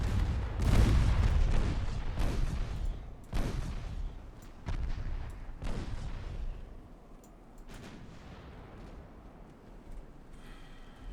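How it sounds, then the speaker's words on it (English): Heavy 9-inch naval main guns fire in the Ultimate Admirals: Dreadnoughts warship game, about six deep booming shots spaced a second or two apart, each with a rolling low rumble that fades out, growing quieter toward the end. "Main guns. Fire those 9-inchers at that fleeing ship."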